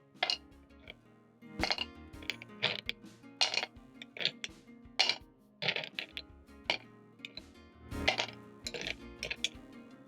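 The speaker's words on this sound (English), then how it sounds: "When everything is perfect, you're going to add in ice cubes." Ice cubes clink and tumble into a glass while a passion fruit mojito is made, a string of sharp, close clatters with short pauses between them, alone and fairly quiet.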